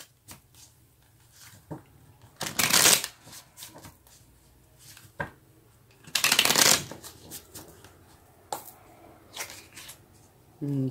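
Tarot card deck being shuffled close by, with two longer riffling bursts and scattered soft taps and slides of cards between them in a quiet room.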